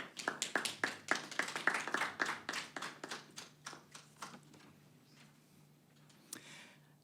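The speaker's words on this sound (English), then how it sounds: "Please clap hands for him as he comes along." A burst of hand clapping from a small group at a launch event as a speaker comes up, brisk and close, thinning out into a few scattered claps before fading.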